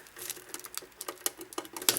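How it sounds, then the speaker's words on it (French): Scissors snip and crinkle through thick plastic wrap on a Pokémon box, a quiet run of quick, irregular clicks and rustles up close. "heureusement que j'ai une paire de ciseaux parce que avec les ongles ça aurait été quasiment impossible tellement c'est épais comme plastique"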